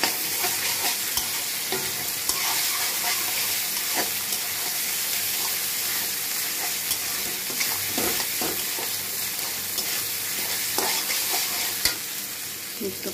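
Ginger and garlic frying in oil for chicken curry, a constant hissing sizzle close by with irregular clinks and scrapes of a spoon stirring the pan throughout, nobody speaking.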